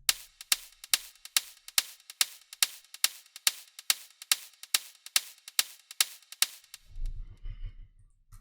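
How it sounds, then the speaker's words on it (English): Techno hi-hat built from a retro sound-effect sample pitched up nine semitones, ticking in a steady even pattern of about fifteen crisp bright hits, then stopping as a low rumble takes over. "Then we have our hi-hat that sounds like this."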